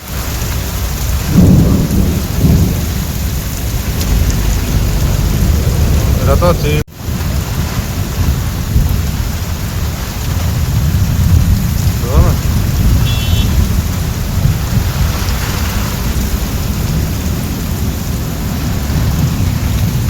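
Heavy rain pours steadily while thunder rumbles in a Kalbaisakhi (nor'wester) storm, and a few brief spoken words come through under the downpour.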